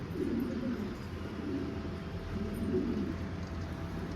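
Pigeons coo softly in low, repeated rounded phrases, moderately close over a steady background hum, without any voices.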